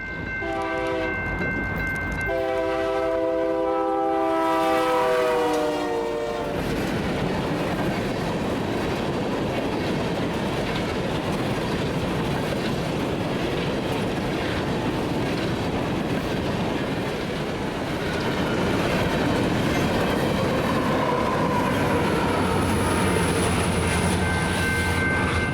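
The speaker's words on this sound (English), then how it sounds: "we moved up to the Highway 52 grade crossing, where we get the train moving at speed" A BNSF freight train sounds its horn on approach to the Highway 52 grade crossing, then roars past at speed in a loud, continuous rumble and rolling clatter of wagons that lasts to the end.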